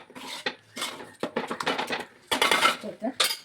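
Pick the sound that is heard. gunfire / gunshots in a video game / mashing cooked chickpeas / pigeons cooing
mashing cooked chickpeas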